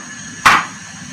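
A single sharp chop of a knife through vegetables on a board, cutting greens for pondu ya nguba mobesu, one crisp close hit against a quiet background.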